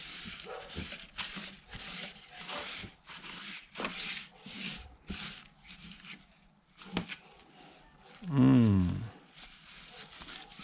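Hand sanding on wood for a keyboard wrist rest comes as a run of rhythmic rasping strokes up close, paused now and then, with a short louder scrape near the end.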